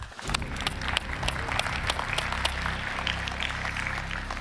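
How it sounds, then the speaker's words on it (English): Applause from a space-industry conference audience welcoming a panel onto the stage, a steady wash of clapping with some low murmur beneath, continuous for a few seconds at moderate level. "let's give them a big round of applause"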